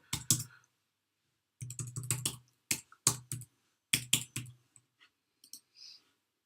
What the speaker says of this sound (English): So I'm just going to quickly type in a password.